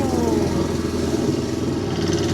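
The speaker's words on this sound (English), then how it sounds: "Use the engine to chop it up." A boat engine on the Mekong Delta near Can Tho chops through dense water grass, a loud, steady motor drone that runs continuously up close.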